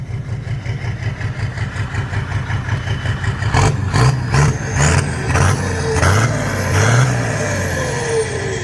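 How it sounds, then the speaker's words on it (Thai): A souped-up car with a big, loud aftermarket exhaust idles with a lumpy, pulsing rumble, then gets blipped through several sharp, loud revs in quick succession before settling back, close to the listener. "เบิ้ลคันนี้หน่อยไหนฟังเสียงหน่อยสิ"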